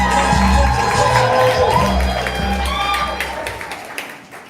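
An audience at a live poetry event applauds and cheers for a poet, loud and close, with a few shouts over steady clapping that tapers off toward the end.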